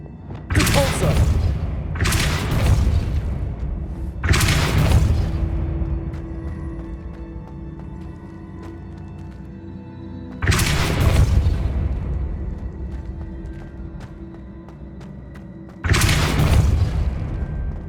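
The Depulso force-push spell fires repeatedly in Hogwarts Legacy on PS5, five loud booming blasts at irregular intervals, each a sharp burst with a rumbling tail over a continuous game ambience.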